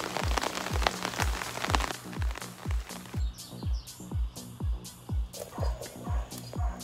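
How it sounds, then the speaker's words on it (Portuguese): Rain falls on a home vegetable garden planted with squash and kabocha pumpkins, steady patter layered under a regular series of low thumping pulses, with birds calling faintly in the background. "Bendita chuva."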